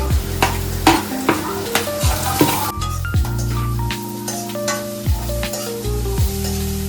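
Ginger and garlic fry with onions in a pan, a steady sizzle with stirring scrapes running beneath prominent tonal background music.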